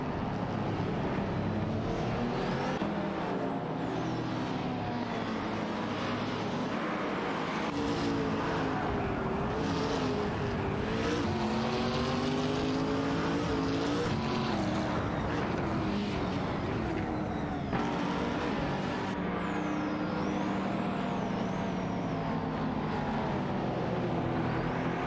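Race cars including a Ferrari 458 and a W Motors Lykan Hypersport roar through a video game race, a continuous layered engine drone with shifting pitch as cars jostle closely for position.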